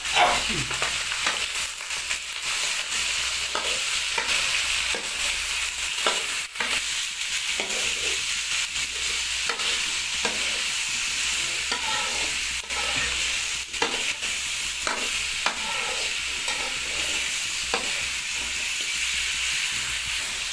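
Mixed vegetables with browned onion stir-fried in a pan, a steady close sizzle and hiss broken by repeated scraping and stirring knocks throughout, no voices.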